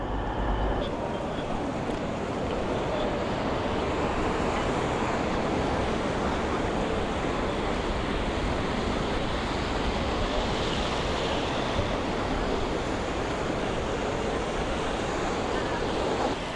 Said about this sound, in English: Well, Sheffield train station's quite fancy. Got a giant metal waterfall wall.